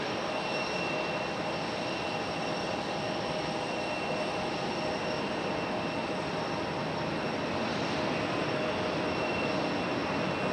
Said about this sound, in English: Looks like we got a Delta A220.